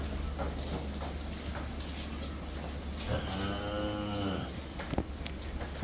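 A large, heavy-bodied cow lows once on a dairy farm where cows are for sale, a drawn-out moo rising mid-clip over a steady low hum and farmyard background noise.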